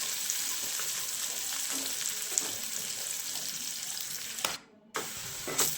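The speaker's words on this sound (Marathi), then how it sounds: "आणि कांदा चांगला गोल्डन ब्राऊन होईपर्यंत फ्राय करून घ्यायचा आहे." Chopped onion fries in hot oil until golden brown, giving a continuous dense sizzle with light stirring, broken by a brief near-silent gap before the sizzle resumes.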